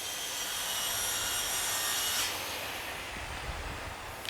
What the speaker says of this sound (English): Every time I do, they start sawing something.